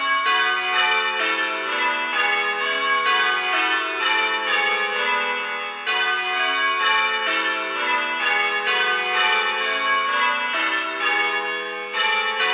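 A peal of church bells rings in continuous rounds of changes, plain hunting to fourths place in Little Bob Minor, each bell striking in turn in a steady, loud, unbroken rhythm.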